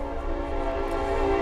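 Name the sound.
passing train sounding its horn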